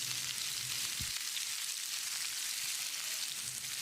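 Steady sizzling of onions sautéing in a pan until golden, a constant bright hiss with one soft low knock, no voices.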